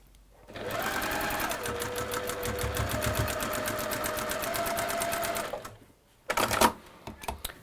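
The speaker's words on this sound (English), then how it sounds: "we're going to sew along that marked line" A sewing machine stitches fabric along a marked line in a steady, fast mechanical chatter for about five seconds, then stops, followed by a brief second burst of stitching, close by and with no talk.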